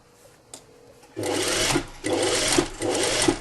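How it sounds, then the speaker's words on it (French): An electric sewing machine stitches a hem on a belted shirt-tunic, running in three loud, steady bursts of rapid mechanical whirring after a few quiet clicks, close up. "On fait l'ourlet machine."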